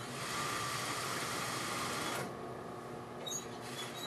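A sewing machine stitches face fabric to lining for a lined bedskirt, running with a steady whirring drone for about two seconds before stopping, leaving faint room noise.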